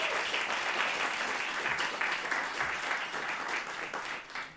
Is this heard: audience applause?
yes